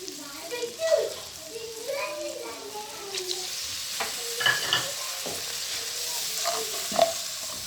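Salt, chili and garam masala fry in a pan for aloo gobi paratha filling, a soft, steady sizzle with stirring scrapes while a voice talks over it in the first half.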